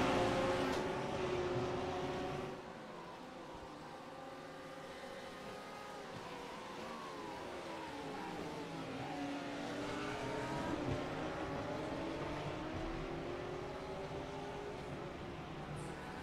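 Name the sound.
Porsche and BMW GT3 race cars racing at Motegi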